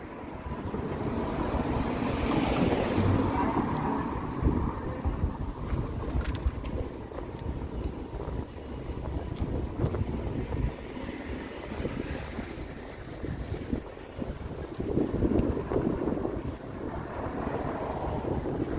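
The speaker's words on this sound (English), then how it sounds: "Crazy wind gusts here." Strong wind gusts buffet the microphone outdoors in Toronto, a steady loud roar that swells and eases in waves for the whole stretch, with no talking over it.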